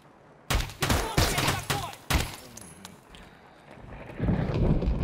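Gunfire in Escape From Tarkov, with several loud, sharp shots in quick succession followed by a quieter stretch and rising background noise.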